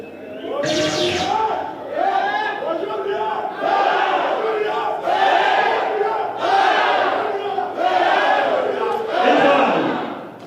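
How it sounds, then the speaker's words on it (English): A darts crowd roars and chants for Peter Washuri at a PDC World Championship Africa qualifier, with loud rhythmic bursts of cheering rising and falling in waves, like a repeated battle chant. "There you hear the cheers for Peter Washuri."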